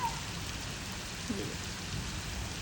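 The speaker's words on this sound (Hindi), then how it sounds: "बहुत तेज़ बारिश हो रही है।" Heavy rain falls outside as a steady broadband hiss, moderately quiet, with occasional faint rumbles beneath and no voices.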